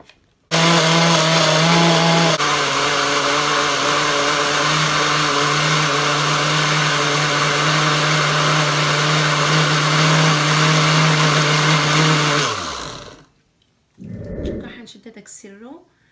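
A blender whirs loudly and steadily while blending half a banana, strawberry syrup and half a cup of ordinary sugar into a strawberry banana smoothie. The motor runs continuously for about twelve seconds, its pitch shifting slightly early on, then cuts off, followed by brief handling noise.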